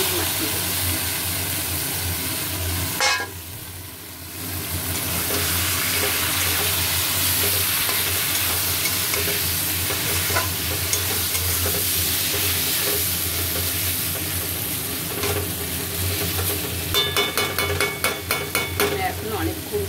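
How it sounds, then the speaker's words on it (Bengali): Mutton marinated in yogurt, salt and turmeric sizzles steadily as it is sautéed and stirred with spices in a pan, a continuous close frying hiss with occasional clinks near the end. "মাটন কষা হচ্ছে"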